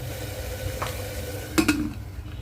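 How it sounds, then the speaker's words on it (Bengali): Spices sautéing in a little oil in a pan make a low, steady sizzle, with a stirring scrape and a couple of quick metallic clinks from a utensil against the pan. "এগুলি ভালো করে কষিয়ে নিই"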